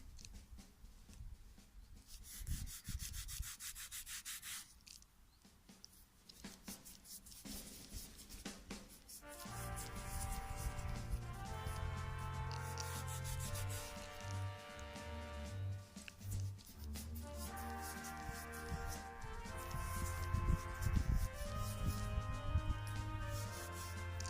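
A metal-detected coin crusted with concretion is rubbed by hand, giving close, faint scratching and scraping strokes in irregular bursts, with a soft rustle of handling between them.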